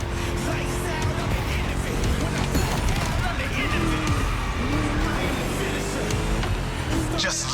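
Race car with a V8 engine in The Crew Motorfest, a racing video game, roaring steadily and loudly with tire squeals and skids as it laps, with a voice talking over it.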